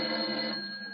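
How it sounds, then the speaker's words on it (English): A telephone-like electric bell rings steadily in a radio drama, one continuous sustained ring lasting about a second, fairly quiet and alone with no voices. "There's the doorbell now."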